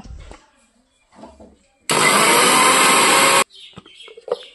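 Mixer grinder whirring ginger and mint into a paste for fuchka water, a loud, steady grinding burst of about a second and a half that starts and stops abruptly, with quiet kitchen sounds before and after.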